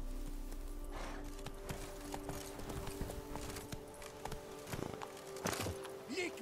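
Roach, a horse in The Witcher 3, gallops with faint, quick irregular hoofbeats clopping in a running rhythm under a low steady game ambience.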